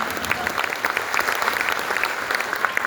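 An audience claps for a speaker being welcomed at a program, giving steady, lively applause with distinct hand claps audible in the mix, filling the room at an even level throughout.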